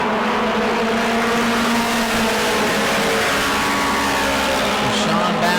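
Mod Mini race car engine running rough at New Smyrna during a race, a loud, continuous, uneven engine drone with other cars circling, heard over a steady track roar.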